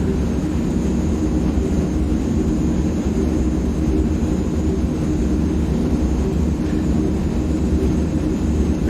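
Twin turboprop engines of a C160 Transall military transport roar steadily through a takeoff roll in a flight simulator game, a loud, continuous, unbroken drone that holds near and constant from start to finish with no talk over it.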